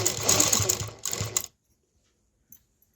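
A home sewing machine with a single-cord foot stitches close along dori (cord) piping, a loud steady mechanical run for about a second and a half, a brief pause, then another short burst before silence.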